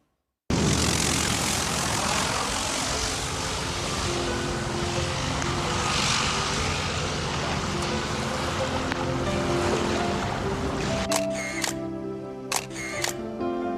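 A steady, loud drone of an aircraft in flight fills the recording, fading slightly near the end where a few clicks appear.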